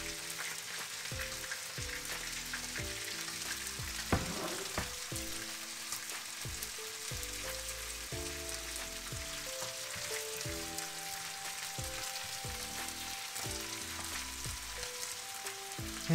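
Garlic frying in a pan for a chicken guisado, a steady close sizzle and crackle throughout with occasional stirring and pan knocks, no talking.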